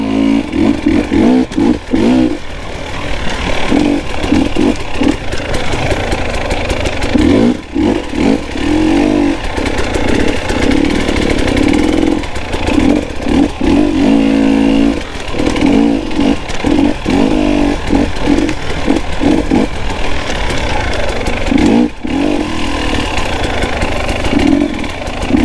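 A KTM 300XC two-stroke dirt bike rides through the woods, its engine close and loud with constant revving that rises and falls, punctuated by brief throttle chops and clattering over rough ground.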